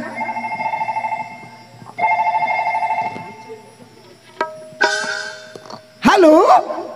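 A telephone rings in two clear, repeated bursts, followed by short clicks and a high beep. A dog barks briefly near the end.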